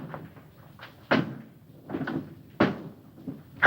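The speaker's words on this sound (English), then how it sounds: "throw the last switch" A large switch is thrown in a 1976 horror film, giving two sharp, loud mechanical clunks about a second and a half apart, with quieter shuffling and movement between them.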